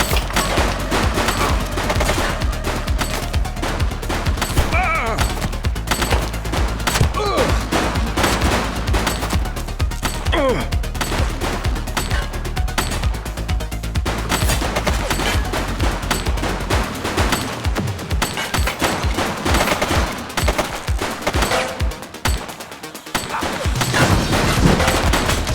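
Sustained automatic gunfire from an enemy shooter in The Precinct video game hammers on almost without pause, dense and loud throughout, with a brief lull of separate cracks near the end before the barrage resumes.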